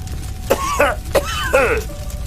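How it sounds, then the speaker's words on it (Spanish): A person coughs and clears their throat in a few rough bursts, close by, with faint background hum and no talking. "Al escuchar a alguien tosiendo, el castaño paró en seco."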